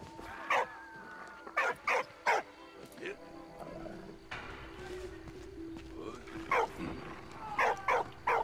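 A dog in the video game Valiant Hearts gives several loud, short barks in clusters over in-game ambience, while a person talks quietly in the background.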